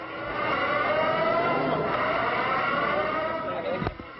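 Faraway sirens keep up a sustained wail in the quiet lobby of a damaged building with shattered windows, a faint voice murmuring beneath them and a brief knock near the end.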